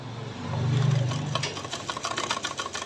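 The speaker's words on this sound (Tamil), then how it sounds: "மடிச்சுட்டு வீலில் சுற்றி விட்டு இங்கே தைக்க ஆரம்பிக்கலாம்" A sewing machine stitches a folded handkerchief during a tailoring class, its motor humming for about a second and then giving way to a fast, even run of light mechanical clicking close by.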